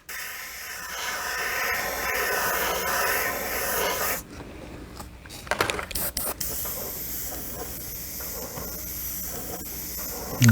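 A steady, close airbrush hiss runs for several seconds, cuts out briefly with a few sputters, then resumes spraying evenly.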